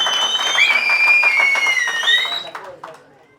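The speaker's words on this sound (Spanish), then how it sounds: "fuerte el aplauso ahí, Eunice." Audience applause from a youth church gathering, a steady wash of clapping and crowd noise lasting about two and a half seconds before fading out, with a loud whistle-like tone riding over it.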